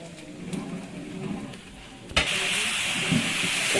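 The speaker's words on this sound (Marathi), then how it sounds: "आता मसाले भाजून घेतो तिकडे" Spices roasting in a pan over heat for a traditional village offering, a soft hiss that jumps into louder steady sizzling partway through, with light stirring noises.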